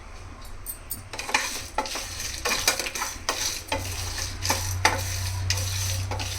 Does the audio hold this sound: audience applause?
no